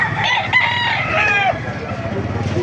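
Rooster on a Baliwag farm full of chickens gives a loud, close crow lasting over a second, followed by softer clucks and a low background murmur of talk.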